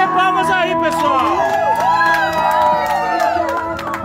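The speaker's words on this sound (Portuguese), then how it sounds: "Pode bater palmas aí," Guests at a friend's birthday party in São Paulo's east zone cheer and whoop loudly, with overlapping voices, shouts and some scattered clapping that carry steadily through the whole stretch.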